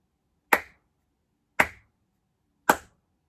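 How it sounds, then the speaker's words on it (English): Three slow, deliberate hand claps spaced about a second apart, crisp and close with silence between each. "It's a slow clap."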